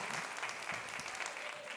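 Steady, fairly faint applause from an audience welcoming a guitarist and harmonica player at a rock and country performance, a dense patter of many hands throughout with a faint voice underneath.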